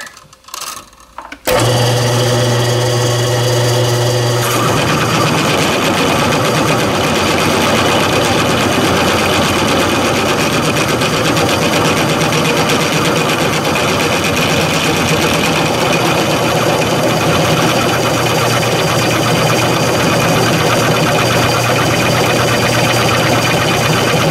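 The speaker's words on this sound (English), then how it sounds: "now we're going to try to punch through with the half inch carbide cutter that was designed for a router, a wood router" A half-inch carbide cutter made for a wood router plunges into metal on a milling machine, a loud steady whine and grinding roar that starts abruptly, then thickens and continues unbroken, with a faint motor hum underneath.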